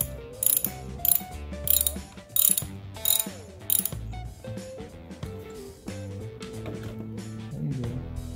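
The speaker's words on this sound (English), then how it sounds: "And then I'm going to use a drive ratchet" A drive ratchet clicks in several sharp bursts, then a longer stretch of steady ratcheting, close and clear, during an oil change on a Yamaha XSR900 motorcycle; no talk.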